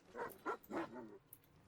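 Dog creature in the video game ARK Ascended barking three times in quick succession, followed by a faint whimper, fairly quiet and alone.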